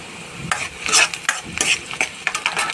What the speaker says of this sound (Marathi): मिक्स करून घ्यायचं बेसन पीठ चांगलं मिक्स झालं कांदा पण लाल झाला